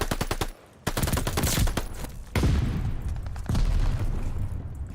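Rapid bursts of gunfire in a Call of Duty Challengers Elite 2022 esports match, loud and dense, with a brief gap before heavier explosive booms and sustained firing take over.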